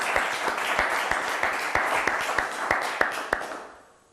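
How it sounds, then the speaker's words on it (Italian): A studio audience on an Italian television quiz show applauds, a steady, dense patter of many hands with a few sharper claps standing out, fading away at the end. "Quanto bravo Enrico, preparatissimo, facciamo un applauso anche a lui, lo merita."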